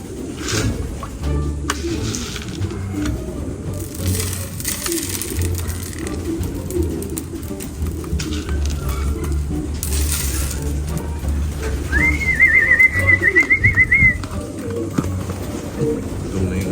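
Racing pigeons at a family loft coo softly after feeding, a low steady murmur through most of the stretch, with a brief brighter call or rattle rising near the end.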